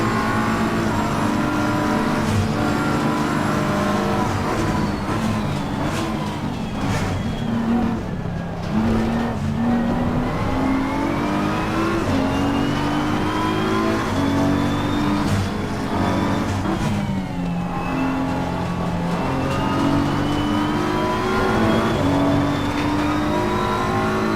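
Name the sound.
race cars at Monza in a racing video game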